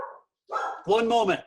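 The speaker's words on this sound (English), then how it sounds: "I'm sorry about the dogs barking in the background." Several dogs bark in the background of a home interview recording, with sharp repeated barks mixing in and out under a speaker's voice, moderately loud and fairly near.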